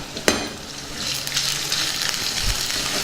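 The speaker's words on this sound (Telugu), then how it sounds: "దీన్ని బాగా కలుపుకుందాం కాసేపు బాగా వేగనిద్దాం" Onion, garlic, green and dried chillies and curry leaves fry in a pan for a tempered rice dish. A brief clink opens a steady, moderately loud sizzle that continues without talk.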